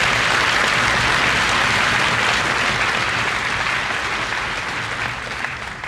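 Graduation audience giving a loud, dense round of applause for the top seniors, sustained and gradually tapering toward the end.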